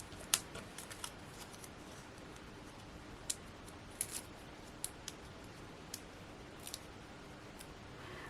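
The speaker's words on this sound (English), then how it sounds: "Let me just cut one in half, so I've got a bit at the bottom and the top for a support." Scissors snipping through a craft foam pad, cutting it in half, with a few sharp, quiet clicks and crunches spaced irregularly over a faint background hiss.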